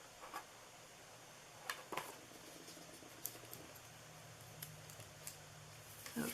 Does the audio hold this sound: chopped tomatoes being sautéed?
no